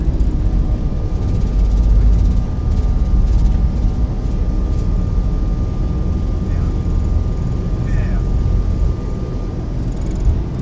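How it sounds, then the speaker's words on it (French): A loud, steady roar from an airplane accelerating down the runway and taking off, heard from inside the cabin as a dense low rumble that continues without letting up, with no clear talking. "Et voilà, nous décollons."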